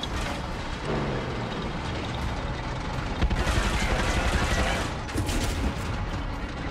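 Dense, continuous video-game gunfire in Far Cry 6, a roaring barrage of rapid shots and booms that swells louder near the middle, with no pause throughout.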